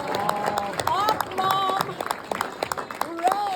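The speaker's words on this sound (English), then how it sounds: "can you get a round of applause for my mom" An audience at a college scholarship awards event applauds in a burst of clapping, mixed with cheers and voices carrying over the sound.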